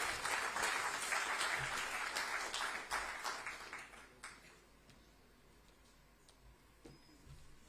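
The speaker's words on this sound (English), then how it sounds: "Can we have a round of applause," An audience at a chamber of commerce annual general meeting in Mumbai gives a round of applause, dense clapping that thins out and fades to a few scattered claps.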